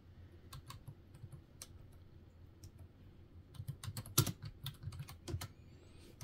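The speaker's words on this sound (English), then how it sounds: "so let's type again." Keys clack on a computer keyboard at a Windows command prompt, a sparse scatter of clicks at first, then a faster, louder burst of typing near the end.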